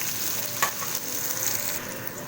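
Sliced bitter gourd frying with ginger in hot oil gives a steady, close, even sizzling hiss with one small crackle partway through; no voices.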